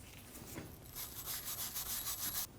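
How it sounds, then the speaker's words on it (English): A wire brush scrubs the wheel hub of a 2013-2015 Subaru XV Crosstrek, with steady rough rasping strokes repeating close up through most of the moment, no talking. "Using a wire brush, or if you have it, a die grinder, clean up the hub."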